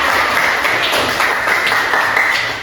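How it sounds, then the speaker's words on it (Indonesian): A classroom of students claps for a classmate during a traditional dance lesson, a dense, steady patter of many hands close by that fades slightly at the end. "Oke, tepuk tangan untuk Isra."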